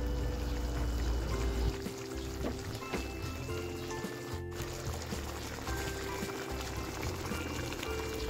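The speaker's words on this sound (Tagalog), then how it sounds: "Lagyan ko na rin ng piniga kong kalamansi." Squeezed calamansi juice pours into a simmering pot of pork caldereta, giving a brief liquid splash at the start followed by soft bubbling and faint sizzling from the cooking pot.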